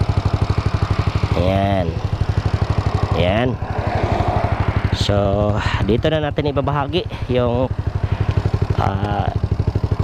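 A Suzuki Raider J115 Fi motorcycle fitted with a 57mm setup, a 30mm throttle body and a six-hole injector runs with a steady, loud engine drone throughout, and someone talks over it.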